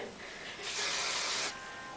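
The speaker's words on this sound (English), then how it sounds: "I spray it on my hand, a little bit on my hand first" A short, steady hiss of hair spray onto a hand, close and fairly loud, lasting under a second within quiet room tone.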